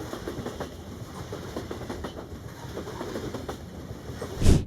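A model railroad train runs nearby with a steady low rumble and faint rhythmic clicking over the track, ending in a short louder thump.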